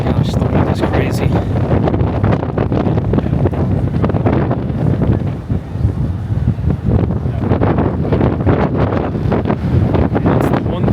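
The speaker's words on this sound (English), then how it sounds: "the wind is crazy." Strong, cold wind in Manhattan's Hudson Yards slams the microphone with loud, continuous roaring gusts that barely let up over eleven seconds.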